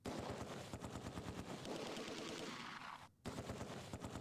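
Machine gun fire from the Close Combat 2 war game crackles in sustained rapid bursts, loud and dense, with one brief pause before the firing resumes.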